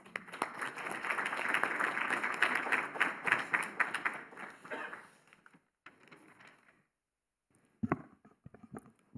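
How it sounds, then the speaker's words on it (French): Audience applause at a SPIROU project presentation event, a burst of dense clapping for about five seconds that thins into scattered claps, then near silence with a few faint sounds and a brief voice. "On peut vous applaudir"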